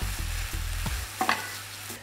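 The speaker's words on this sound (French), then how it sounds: "je rajoute l'aubergine et la courgette" Eggplant and zucchini fry in a pan for vegetable tartlets, giving a steady close sizzle with stirring scrapes and a few light clinks.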